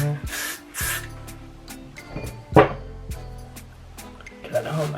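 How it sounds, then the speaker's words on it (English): Several short hissing bursts of hair spray on a braided wig, close to the microphone, separated by pauses with faint handling noise and a sharper rustle midway. "I'm gonna spray a little more"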